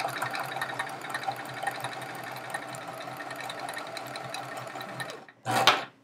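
A sewing machine stitches a chevron row of a Charming Chevrons quilt, running steadily and alone for about five seconds before a short pause and a brief final burst.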